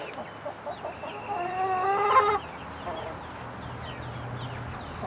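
Backyard pen of about ten hens, including young buff chickens, clucking and calling in a rising run of squawks that peaks then fades, with a low steady background hum.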